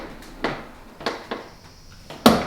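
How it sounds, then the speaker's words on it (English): A Jeep's rear tire carrier gives off four sharp creaks and pops at uneven intervals, close and fairly loud, with the last pop the strongest. Low background noise sits between them. "All that creaking is literally the tire carrier."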